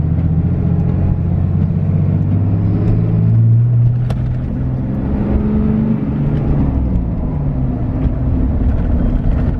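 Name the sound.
Ram pickup truck accelerating in third gear, building boost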